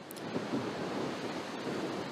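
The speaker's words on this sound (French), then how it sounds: "Les vagues sont impressionnantes, comme ici au Sanguinaire." Ocean waves crash at the Sanguinaires in Corsica during a violent storm with orange-alert wind, a dense continuous roar of surf and gusting wind, steady and fairly faint.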